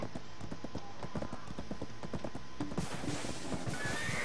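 Horse hooves gallop in the video game Black Desert Online, a steady rapid clip-clop close by with a whinny mixed in, continuous throughout with no talking.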